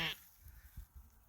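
A sheep on a working sheep farm with a flock of ewe lambs lets out a short bleat, followed by a few faint, low animal sounds against a quiet outdoor background.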